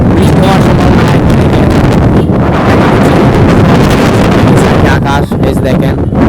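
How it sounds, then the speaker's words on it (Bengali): Big sea waves roll onto a beach under a cloudy sky, heard as a loud, continuous wash that is heavily buffeted by wind noise on the microphone. "আমার পিছনে দেখেন এই যে দেখেন কত সুন্দর সুন্দর ঢেউ আসতেছে আর কি সাগরের, সমুদ্র পাড়ের আর কি"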